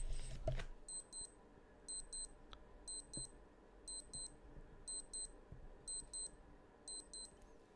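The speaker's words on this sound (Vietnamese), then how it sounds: "để chúng ta nghe tiếng báo thức" A Casio G-Shock GST-210B digital watch alarm beeps in rapid high-pitched bursts, repeating at a steady rhythm about every second, faint and close, over quiet background noise.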